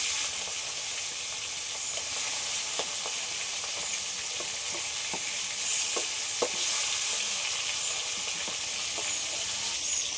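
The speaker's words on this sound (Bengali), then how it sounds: "তেলটা ভালো করে গরম হয়ে গেছে, এবার মাছটা আমি ভেজে নেব।" Shol snakehead fish, including its roe, fries in well-heated oil with a constant loud sizzle and hiss, punctuated by sharp pops and spatters.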